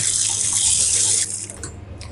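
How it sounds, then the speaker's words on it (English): Hot water runs in a steady splashing stream into jam for buttered bread, then tapers off into a few softer trickles. "I'll add a touch of hot water to the jam."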